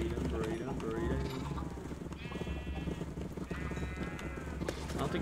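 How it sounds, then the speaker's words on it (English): Sheep bleat repeatedly in the video game RLCraft, a modded Minecraft, with several wavering cries mixed with footstep-like clatter and background game noise under a speaking voice. "Breed the sheep."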